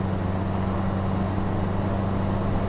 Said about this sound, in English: Nice change in engine note there as the RPMs come up.